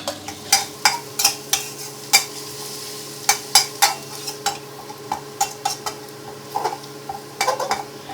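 Garlic frying in oil until golden, a steady bubbling sizzle broken by repeated sharp clinks and scrapes of a utensil stirring against the pan, close and fairly loud, no voices.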